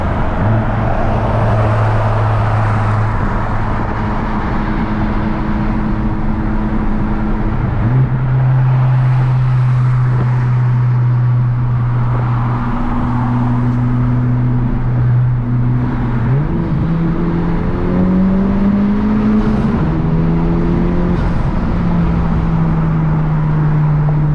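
A tuned 2017 Honda Civic Type-R cruises on a freeway at night with a loud steady engine drone inside the cabin. The pitch shifts with gear changes and sits under continuous road and wind noise.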